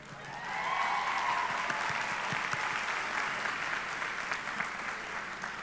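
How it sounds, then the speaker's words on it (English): Audience applause at a 2022 high school commencement ceremony, a sustained wash of clapping heard from a distance in a large room, with a faint voice carrying over it near the start. "can we get a round of applause?"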